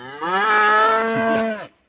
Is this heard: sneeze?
no